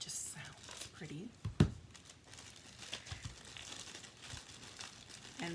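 Patterned floral craft paper is handled up close with soft crinkling and rustling plus one sharp crisp snap, while someone talks quietly over it.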